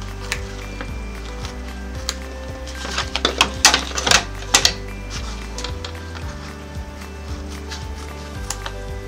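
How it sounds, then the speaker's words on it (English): Sewing machine stitches over tape while finishing an emery board and straw holder project, a steady low motor hum with rapid mechanical needle clatter that grows busier and louder mid-clip, no talking. "My machine will stitch right over it."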